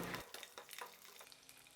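Steady crackling sizzle of garlic cloves frying in hot oil, with a few stirring scrapes and clinks, close by and fairly quiet.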